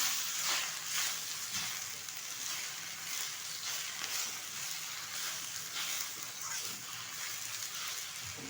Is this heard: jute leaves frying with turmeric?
yes